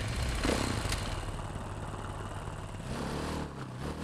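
A motorcycle engine idles in GTA 5 with a steady mid-pitched throb, holding an even, continuous rumble at moderate loudness throughout.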